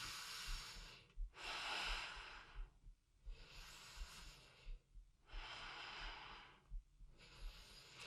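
Slow, deliberate breaths in and out during a gentle chair workout, four long airy exhalations alternating with quieter gaps, close and soft, with a faint low hum behind.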